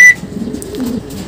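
A young racing pigeon gives a short, soft coo, close by and brief, with a faint chirp at the start and no talk.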